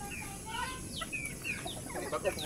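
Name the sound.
native chickens clucking at a small chicken farm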